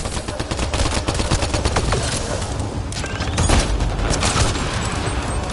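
Dense, sustained gunfire fills a Mass Effect Andromeda battle, with rapid overlapping shots and bursts in a loud, continuous fusillade and no pauses.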